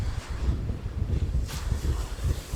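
Strong wind on the Izu coast at dusk blasts against the microphone in heavy low rumbling gusts, with a faint wash of surf behind it and no voices.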